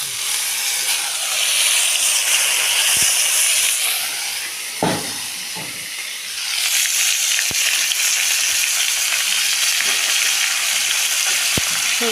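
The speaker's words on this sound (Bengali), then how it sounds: "এখন আমি ফুলকপি ভেজে নিব।" Turmeric-boiled cauliflower fries in hot oil with a loud, continuous broadband sizzle and hiss, a few clicks and stirring knocks from the pan, and a brief dip in the middle before the frying noise swells again.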